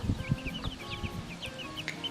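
Backyard chickens cluck in short, scattered bursts at close range over a steady low rumble, with intermittent higher chirps throughout.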